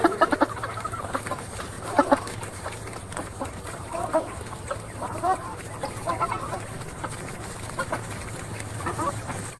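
Hens cluck in short, irregular bursts across the stretch, moderately near, over a steady low hum, with no talk.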